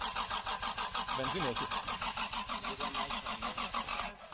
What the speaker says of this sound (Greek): Και αρχίζει να ψιλοτρέμει το εξακύλινδρο